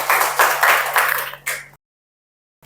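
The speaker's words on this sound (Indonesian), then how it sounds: "tepuk tangan untuk Mutia" A classroom group claps for a student in a short burst of applause lasting under two seconds. The clapping is close and fairly loud, with a few pulsing swells, and then cuts off into silence.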